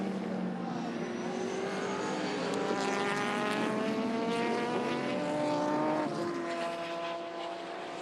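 Race cars roaring around Symmons Plains circuit in a 2015 Sports GT race, including a 1990 replica-style Nissan Skyline GTR battling for position; loud, continuous engine notes rise and fall in pitch as cars pass, with a shift change near the end.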